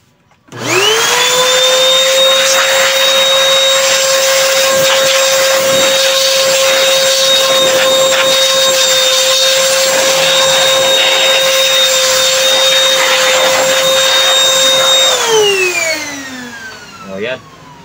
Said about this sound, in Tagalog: O blower muna natin para mabilis.